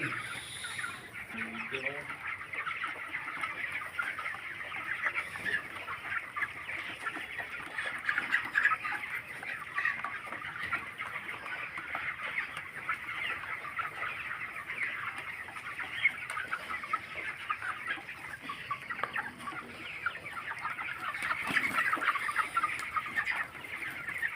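A dense flock of 26-day-old broiler chickens clucking continuously, a steady crowded chatter throughout with occasional louder calls rising above it.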